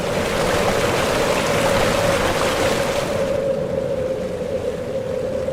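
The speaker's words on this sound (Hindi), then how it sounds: "इससे जुगलबंदी कर रही है स्पीति नदी की कलकल" Babbling of the Spiti river in the high Himalayan valley of Lahaul and Spiti, a dense, continuous rushing wash of water that fills the whole stretch at close range, easing slightly toward the end.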